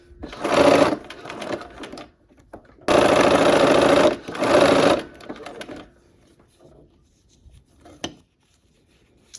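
A sewing machine stitches a quilt block in two loud bursts, the second longer with a brief pause inside it, then falls quiet apart from faint handling clicks.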